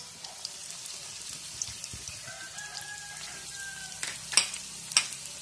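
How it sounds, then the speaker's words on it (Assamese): Tomato, chili, ginger and garlic fry in a pan for pork kumbin, a low steady sizzle with soft stirring scrapes, while a rooster crows and birds chirp faintly in the background. "বিলাহী, জলকীয়া, আদা ৰচুন দি সুন্দৰকৈ ফ্ৰাই কৰি ল'ব অলপমান সময়ৰ কাৰণে।"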